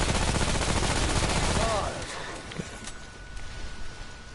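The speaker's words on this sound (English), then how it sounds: "the assault rifle is actually starting to do damage" Assault rifle fire in Remnant: From the Ashes, a fast continuous burst for about two seconds that cuts off, followed by quieter scattered thuds and movement.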